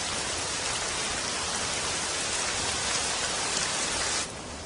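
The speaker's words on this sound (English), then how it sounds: "By morning, rain is falling steadily." Steady rain falls in the wild at the start of the wet season, making a dense, even hiss that continues throughout before dropping slightly at the very end.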